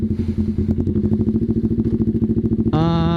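Kawasaki Ninja ZX-636 sport motorcycle idling up close with a rapid, steady lumpy pulse, then rising sharply in a short rev at the end.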